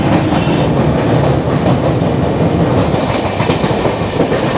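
A Sealdah–Puri Duronto Express train crosses the Ganges at Dakshineswar, heard from inside as a steady, loud rumble with rhythmic clickety-clack of wheels over rail joints throughout.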